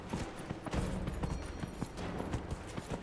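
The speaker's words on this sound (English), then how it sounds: "I'm just happy to finally have a horse." Horse hooves galloping in Dragon Age: Inquisition on PS4, a quick rhythmic clip-clop of hoofbeats running steadily throughout at moderate loudness, with no talking.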